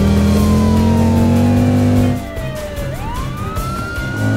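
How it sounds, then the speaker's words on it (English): A cartoon police car siren wails loudly and steadily, its pitch sliding down and then sweeping back up, with an engine-like rumble underneath and no talking. "Police car has turned on the siren."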